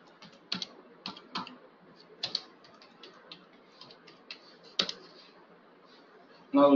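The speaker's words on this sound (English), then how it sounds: "Now if you type git log" A git log command typed on a computer keyboard, a sparse run of close, crisp key clicks at an uneven pace over quiet background, ending with a brief louder sound.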